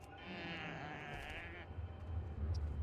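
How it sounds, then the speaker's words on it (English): A goat in the World of Warcraft video game lets out a drawn-out, wavering bleat, moderately loud over low rumbling background game ambience. "That was a very funny sound from the goat."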